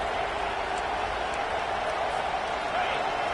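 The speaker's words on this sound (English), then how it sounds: "This crowd bringing the energy and noise early." Dense roar of a stadium crowd at a Tennessee vs LSU college football game, a steady wash of cheering and chatter holding at an even level throughout, with no single voice standing out.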